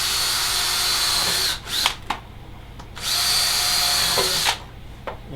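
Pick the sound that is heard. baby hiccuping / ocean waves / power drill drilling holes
power drill drilling holes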